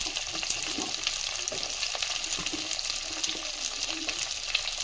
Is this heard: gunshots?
no